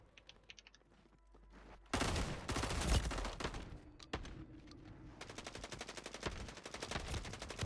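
Bursts of rapid gunfire in the video game Call of Duty crackle loudly and repeatedly, with short pauses and faint clicking between volleys.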